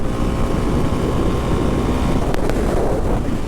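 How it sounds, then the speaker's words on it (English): Loud, constant wind buffeting rumbles and roars across the microphone during a motorcycle ride on a 2024 KLX300sm, without letup, with no voices present. "Wind is picking up."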